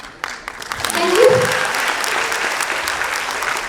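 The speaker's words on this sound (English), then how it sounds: "Another big round of applause, ladies and gentlemen." Audience applause at a school all-rounder grand finale event, a steady wash of clapping that swells after a brief start and holds loud to the end, with no talk over it.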